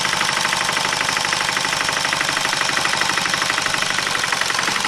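A small loaded tractor's engine runs steadily up close, a loud, rapid, evenly pulsing diesel-like chug that repeats without break and with no talk over it.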